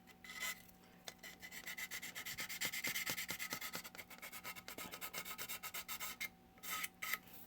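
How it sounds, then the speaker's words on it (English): Quick back-and-forth sanding strokes rasp in a steady rhythm along the edges of a model kit piece, close and fairly quiet, pausing briefly before a few final scrapes. "I'll go back in and I'll do some sanding just to make sure all my edges are perfect."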